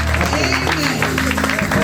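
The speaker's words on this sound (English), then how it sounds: "Clap for Jesus." A church congregation claps steadily during a service, a close, dense wash of hand claps with voices talking over it.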